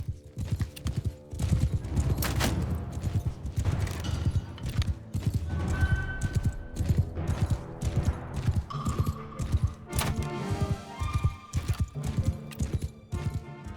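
Imperial cavalry horses galloping in Bannerlord, a dense rhythmic drumming of hooves close by, with clashing battle noise and a few brief whinnies and tones over the pounding.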